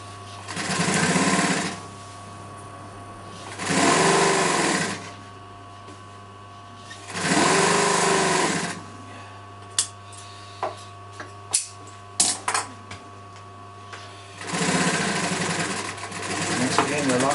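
A sewing machine runs a lock stitch on a cushion in three steady whirring bursts of about two seconds each, with clicks and handling noises between them, then a fourth burst at the end, close up.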